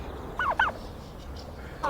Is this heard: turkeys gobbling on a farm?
yes